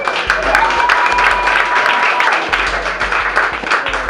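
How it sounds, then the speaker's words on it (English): An audience at a comedy competition in San Francisco applauds loudly and continuously, with scattered cheers and whoops mixed into the clapping. "Make some noise for Tommy O'Neill, everybody"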